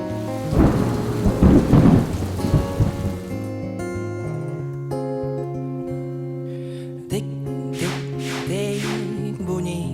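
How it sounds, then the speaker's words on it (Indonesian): Rain pours steadily while rolling thunder rumbles, first loud and close with heavy crashes, then fading into a long low rumble beneath a constant patter of falling drops. "Tik-tik-tik bunyi hujan bagai bernyanyi."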